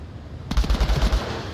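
A quick burst of about six rounds from an AK-104 rifle in the VR shooter Onward, loud and close, rattling off evenly after a brief quiet lead-in with no talking.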